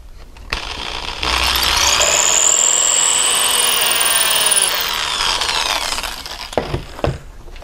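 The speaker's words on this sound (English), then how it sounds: "Now I'll take a power drill and drill through the hole into the back plate." A power drill whirs steadily through a pre-drilled hole into the wooden back plate of a donation box, a sustained grinding run of a few seconds with lighter clicks and handling noise afterward.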